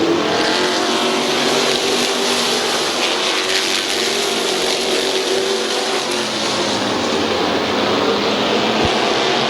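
Race cars scream around the oval at Midvale Speedway, a loud continuous blend of engines from several cars passing, with no talk heard.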